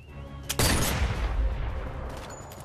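A rifle fires in the Sniper Elite VR game: one sharp, loud shot that cuts off a quieter stretch, followed by a long, rumbling echo that slowly fades.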